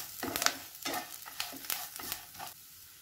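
Tamarind, asafoetida and spices for pirandai chutney being stirred in a hot pan, a quiet sizzle broken by several scraping strokes of a spoon in an uneven rhythm.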